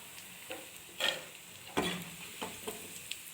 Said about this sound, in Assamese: এই বাকীখিনিও মই তেনেকৈয়ে ভাজিম।